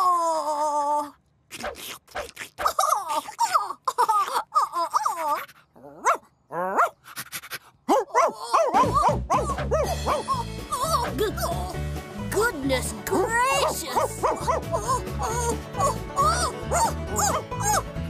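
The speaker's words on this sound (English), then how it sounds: "Dog!" A dog in the animated children's show Alphablocks barks and yips in quick bursts that become dense and loud in the second half, following earlier talk with music.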